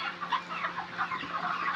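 Thirty-eight-day-old broiler chickens cluck continuously on a poultry farm, a dense, steady chorus of many birds at moderate distance with no talking.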